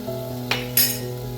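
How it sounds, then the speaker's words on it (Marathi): Potatoes sauté over a low gas flame, a soft continuous sizzle under low steady hum, with two brief scraping stirs of a spoon against the pan. "मसाला वाटेपर्यंत मी याला छान कमी गॅसवर परतवू देणार आहे"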